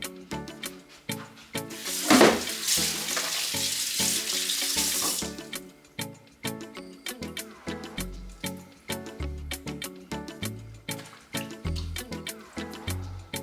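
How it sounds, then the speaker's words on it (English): Tap water runs steadily into a kitchen sink while raw pork is washed with lime, with a rush of fuller flow early on and then repeated clinks, splashes and handling sounds close by. "Now I'm gonna wash the pork, but I will be using lime just to cut away some of the rawness."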